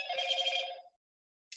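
A telephone rings nearby with one electronic trilling burst that lasts under a second, then silence, then the very start of the next ring.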